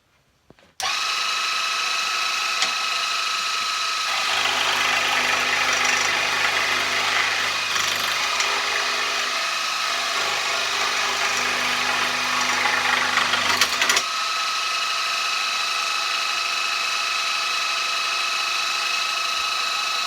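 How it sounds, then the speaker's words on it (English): A scroll saw cuts out small wooden pieces with a steady, loud motorized buzz and a fine rapid chatter of the blade, running continuously for about thirteen seconds before switching off. "just going to trace it out, both sides, and cut it out on the scroll saw."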